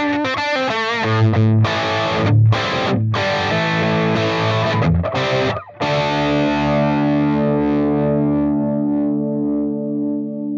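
Electric guitar played through a distorted amp model on an Axe-Fx AX8 rings out in chunky chords and sustained notes, loud and close, ending on a long chord that slowly decays, with no talking.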